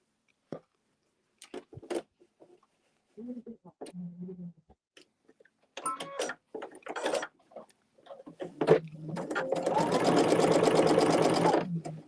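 A sewing machine runs in a steady, loud burst of rapid stitching near the end, preceded by scattered clicks and handling noises.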